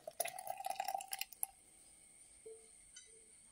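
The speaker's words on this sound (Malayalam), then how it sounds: "ഞാനിതിപ്പം ജഗിലേക്ക് ഒഴിക്കും, എന്നിട്ട് നമുക്ക് അരിച്ചെടുത്ത് കുടിക്കാം." Hot turmeric tea is poured into a jug, a short close, quiet run of dripping and trickling liquid that stops, followed by a couple of faint clinks and near silence.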